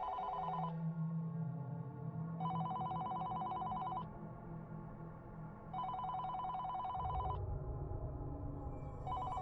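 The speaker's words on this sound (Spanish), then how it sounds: "escuché el teléfono sonar en la oficina" A telephone rings in three or four evenly spaced bursts of bright trilling bells, with a low hum underneath and pauses between rings.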